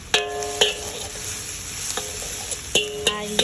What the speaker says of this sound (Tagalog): habang nagigisa ako ng sibuyas bawang